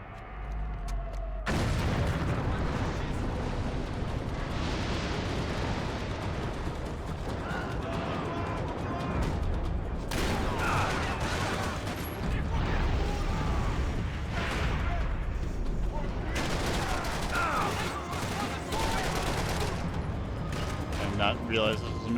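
A machine gun in Max Payne 3 fires continuously through a loud, busy gunfight, with people talking under the shooting.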